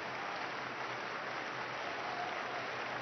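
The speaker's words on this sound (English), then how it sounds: "Crowd come to life." A football stadium crowd at an Olympic men's match between Honduras and Morocco in London roars steadily, a broad, distant wall of cheering and noise that stays level throughout.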